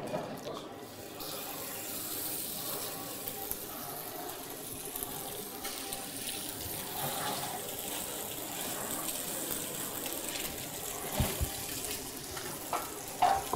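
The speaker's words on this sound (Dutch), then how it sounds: "De pan is goed heet. Kunnen we ook een visje mooi bakken." Sea bass sizzles steadily in a hot frying pan, a continuous close hiss of frying that runs throughout with a few small clinks and bumps near the end.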